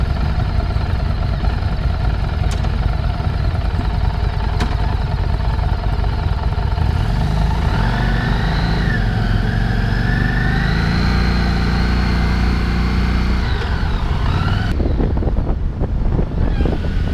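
A loud Harley-Davidson Street motorcycle engine rumbles steadily with deep exhaust throb, rising in pitch as it revs and pulls away, with wind buffeting the microphone.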